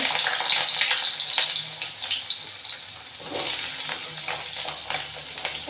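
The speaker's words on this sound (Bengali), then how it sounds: "তেলটা গরম হয়ে গেছে আমি দিয়ে দিচ্ছি আলুগুলো" Potatoes dropped into well-heated oil sizzle loudly and continuously, a close, bubbling frying hiss that dips briefly midway before swelling again, with faint scraping and no talk.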